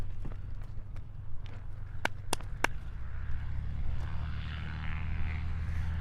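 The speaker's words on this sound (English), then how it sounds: "warming up and lining up on the runway for the final freestyle flight of the day" An aerobatic propeller aircraft warms up and lines up on the runway at the British Aerobatics Open championship. A steady low engine drone runs throughout, with a few sharp clicks near the start.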